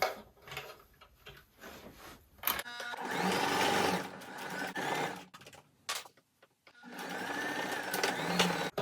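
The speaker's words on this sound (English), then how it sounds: "And then we're going to do a seam down this little edge here." A sewing machine stitches a seam down the edge of fabric for boxer shorts, running in two fast, steady bursts separated by a short pause, with quieter handling noises at the start.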